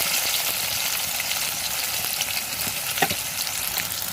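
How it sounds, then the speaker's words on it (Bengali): Thick-cut pumpkin slices fry in a pan, giving a continuous close sizzle with occasional crackles and a brief stir, no talking. "কুমড়োটা দিয়ে দিলাম, কুমড়োটা ভেজে নিয়ে যাবে"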